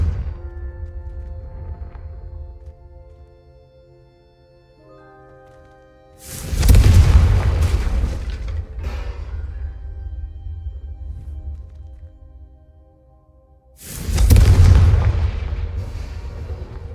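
Two booming Confringo spell blasts in the Hogwarts Legacy video game, each a loud close explosion with a long rumbling tail, set apart by a few seconds of quieter game ambience and soft musical tones.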